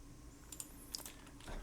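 Keys clatter faintly on a computer keyboard while someone types during a game development session, producing a few soft, scattered clicks under a steady background hum.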